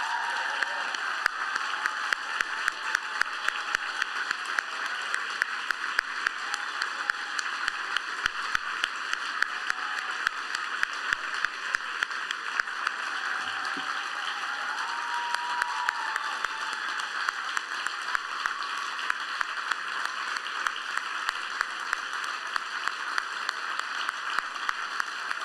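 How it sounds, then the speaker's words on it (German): Applause at a youth music competition's closing concert in Geneva honoring young musicians, steady rhythmic clapping under a constant bright wash of sound running the whole stretch without a pause. "Steht es bitte auf, damit ihr euch einen sehr verdienten Applaus abholen könnt"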